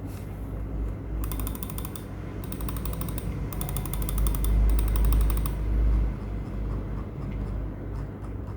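The plastic shell of an ATK A9 mini+ mouse, flexed by hand, gives short bursts of fine ticking and crackling in four separate squeezes over a constant background hum, close up, with no speech.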